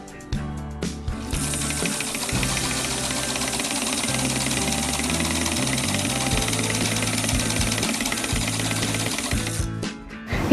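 A sewing machine in a small cabinet, threaded with both upper and lower threads, runs steadily for about nine seconds with a dense mechanical whir and rapid stitching clatter, starting and stopping cleanly, no talking.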